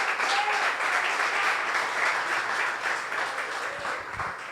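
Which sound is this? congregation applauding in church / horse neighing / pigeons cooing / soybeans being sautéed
congregation applauding in church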